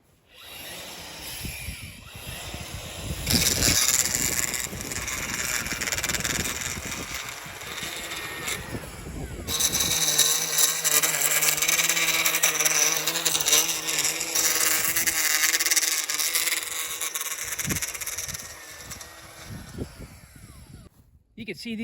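A Stihl trimmer fitted with new powder-coated edger blades runs steadily at high speed, its loud whining drone shifting pitch as the blades bite in, with no talk over it.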